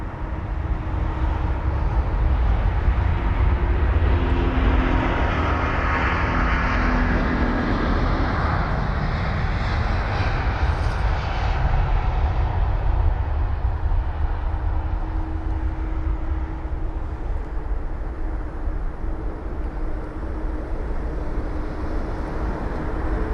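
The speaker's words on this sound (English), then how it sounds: "The BA jet and the American jet racing." British Airways and American Airlines jets at London Heathrow, a loud, steady, broadband engine roar that holds continuously for over twenty seconds with no voices.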